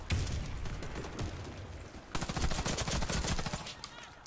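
Rapid bursts of gunfire in the game Warface crackle continuously, with a brief pause midway before a louder, denser stretch of automatic shots.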